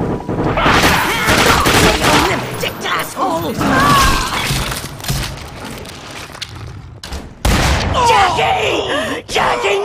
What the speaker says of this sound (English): Just shoot the old bag!